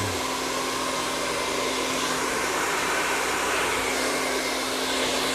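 A hair dryer blows on curly hair in a steady, loud, unbroken whir with a constant hum that runs throughout, with no talking.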